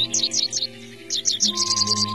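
Grassland birds at Springbrook Prairie in northern Illinois chirp in quick, bright repeated trills, loud and close, over a steady low tonal backing.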